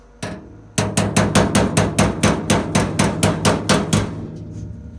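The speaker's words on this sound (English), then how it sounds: "I'm going to try to hammer it in a little." Steady hammer blows, about fifteen sharp evenly spaced strikes in quick rhythm, loud and close, with no voices, as a kick panel is hammered into place on a 1947 GMC.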